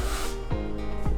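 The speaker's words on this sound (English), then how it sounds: "we're gonna spray just a little bit of olive oil" A short, airy hiss of olive oil spray misted into a preheated air fryer, close and alone, fading within a fraction of a second into quiet kitchen hum.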